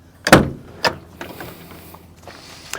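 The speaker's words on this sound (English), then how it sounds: "We'll just open the leisure door" Leisure door on a 1995 Autosleeper Symphony motorhome in need of welding, opening with a sharp latch clack, then a second thud a half second later and faint rattles trailing off, close by with no talking.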